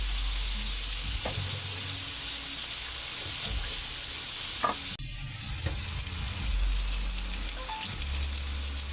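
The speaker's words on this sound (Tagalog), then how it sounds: "Ito ay parrot fish. Iprito muna natin bago natin isahin sa gulay." Parrot fish frying in hot oil gives a steady, loud close crackling sizzle throughout, with a few brief knocks and scrapes from the pan and no talk.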